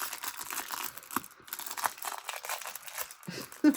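Wrapping paper around rolls crinkles and tears during an unboxing, a run of close, busy rustling and crackling bursts with a short pause midway.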